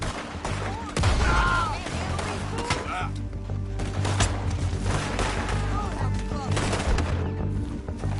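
Gunfire in the Western video game Red Dead Redemption 2, with a sharp shot near the start followed by scattered cracks and booms over a dense mix of game music and ambience, with voices talking through it.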